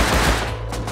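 AK rifle fire in the game Rust comes as a loud, dense burst of rapid shots, close and continuous for the whole second.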